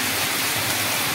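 Heavy rain falling: a dense, even hiss that holds steady throughout.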